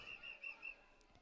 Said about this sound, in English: As the ref whistles that one down.